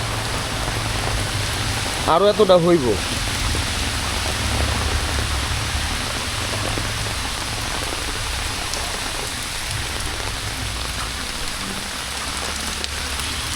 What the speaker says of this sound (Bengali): মানে এত বৃষ্টি শুরু হয়েছে